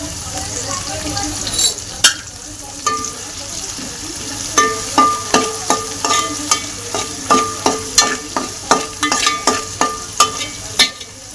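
Onion and tomato fry in a pan with a continuous sizzle, while a utensil strikes the pan in a regular series of sharp metallic taps as the mixture is stirred.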